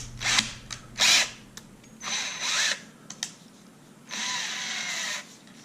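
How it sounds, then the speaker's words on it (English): A power drill spinning a long homemade bit made from a coat hanger whirs in several short bursts, then one longer steady spin near the end, close and fairly loud with quiet gaps between. "I'll put it in the drill."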